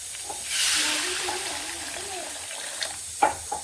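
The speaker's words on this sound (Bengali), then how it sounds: "এবার এখানে আমি জল অ্যাড করছি" Water is poured into a pan of spiced potato-pea ghugni masala, giving a steady hissing splash with faint stirring knocks near the end.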